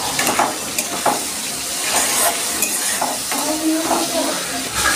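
Chopped tomato with cinnamon sticks and cumin seeds sizzling loudly in hot oil, close and continuous, with a spoon stirring and scraping the pan in irregular strokes.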